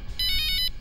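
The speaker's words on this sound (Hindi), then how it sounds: "फोन उठाओ," A short electronic phone ringtone for a call from an uncle, a quick bright pulsing melody of about five beeps over a low background hum.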